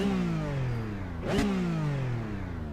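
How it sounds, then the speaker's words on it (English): A Porsche GT3 Cup race car engine in the iRacing simulator revs quickly up to its limiter and falls back, a high harmonic whine that sweeps up and then drops, heard alone without talk. "Hitting the rev limiter almost as soon as I press the gas pedal."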